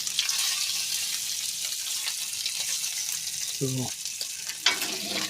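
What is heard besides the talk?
someone's specialty bacon frying in a pan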